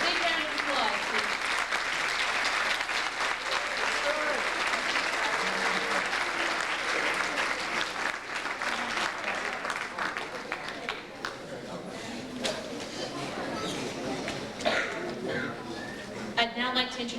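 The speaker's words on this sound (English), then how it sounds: "Big round of applause, please." A school audience gives a long round of applause for National Honor Society inductees at a high school ceremony, dense clapping that gradually thins toward the end, with voices talking beneath it.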